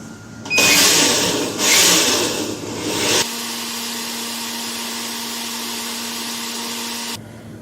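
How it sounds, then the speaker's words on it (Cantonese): An electric blender purees beetroot for a soy milk pudding. It opens with loud, rough, surging whirring for about three seconds, then settles into a steadier, lower motor hum before cutting off. "然之後咧就開個攪拌機啦，打到咧冇渣為止。"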